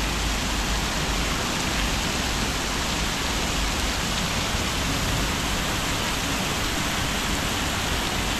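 Heavy, steady rain pouring down by a river in a dense, continuous hiss, close and loud, with no pauses or voices.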